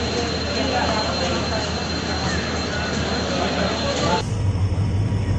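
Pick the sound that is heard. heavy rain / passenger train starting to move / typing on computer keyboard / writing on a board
passenger train starting to move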